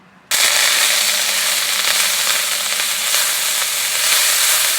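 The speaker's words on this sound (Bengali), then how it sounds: "এবার কড়াইতে দিয়ে দিচ্ছি পেঁয়াজ বাটা।" Onion paste dropped into a hot wok bursts into a sudden, loud, crackling sizzle that holds steady and close for several seconds, with no talking over it.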